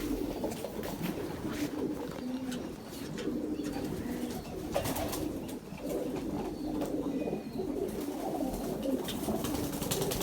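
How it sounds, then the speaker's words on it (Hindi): Pigeons coo softly in low, repeated bursts under steady outdoor background noise, with faint chirps and clatter mixed in. "उस कबूतर का सिर्फ शो करवाऊँगा, तो आए इसका शो करवाऊँ।"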